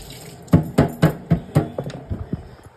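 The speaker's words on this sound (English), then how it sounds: "Let me rinse it off with water so you can see." Tap water rinses a doll kit that has been stripped of paint, giving a run of rhythmic splashing bursts, close and moderately loud, that gradually soften and quicken toward the end.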